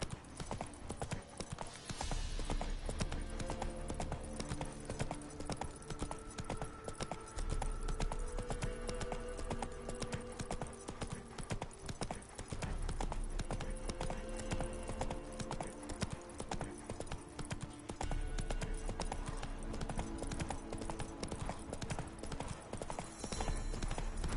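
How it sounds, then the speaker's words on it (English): Horses' hooves clip-clop in a steady, rhythmic walking beat, fairly faint and far off, continuing over a long stretch beneath a soft background hum. "Time to water the horses."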